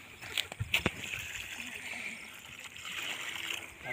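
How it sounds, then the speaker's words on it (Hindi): Water poured from a filled container onto trees outdoors, with splashing and sloshing bursts early on, then a steady wet trickle at moderate loudness beneath a higher background hiss. "यहाँ से पूरा पानी डाल के पेड़ों में डालता हूँ"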